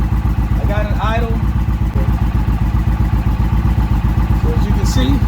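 An Indian Challenger motorcycle engine idles on its stand, a loud, steady, even pulsing throb that runs the whole time, with a brief faint clatter near the end.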